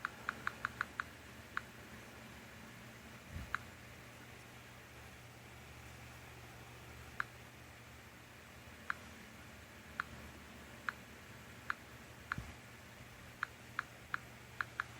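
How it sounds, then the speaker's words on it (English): Faint, sparse clicks like keyboard taps tick in the background over a low, quiet hum, some in quick clusters and others spaced seconds apart. "I hear a bunch of clicking in the background."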